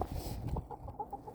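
A small backyard flock of chickens in snowy winter Virginia clucks in short, scattered bursts close by, quiet and without any talk.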